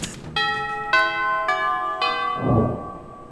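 Four chiming bell strikes ring out at an even pace in the Monster Prom 3 video game, each a bright tone with a lingering tail, followed by a short low whoosh.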